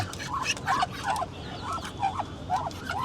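Ducks quacking in a nearby poultry enclosure, a few short nasal calls in an uneven series, close and fairly clear over low background noise.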